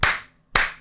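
Two sharp, close hand claps separated by a brief silence, each ringing off quickly, during an 8 Ball Pool game stream.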